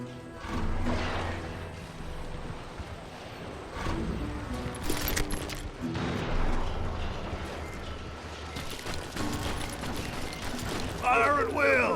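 Scattered gunshots ring out during a shootout at a surrounded homestead in Call of Juarez: Gunslinger, several sharp cracks spaced across the clip amid game clatter, hooves and shouting.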